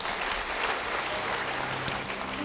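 Applause from a church congregation at a Christmas service, a soft, steady wash of clapping heard from a distance with a faint brief knock near the end.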